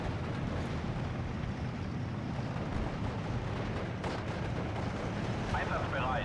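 Counter-battery artillery fire rumbles in the Steel Division: Normandy 44 video game, a steady wash of distant booms and explosions rolling continuously beneath a constant din of battle.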